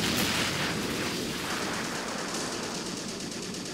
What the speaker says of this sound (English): I'm immediately going to get on that machine gun, try to cause some damage to the enemy